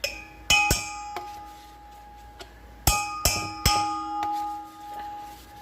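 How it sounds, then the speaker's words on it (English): Sharp metallic clanks ring out in two bursts, a couple of quick strikes, a pause, then three more, each leaving a bright ringing tail in a quiet room. "Metal on metal."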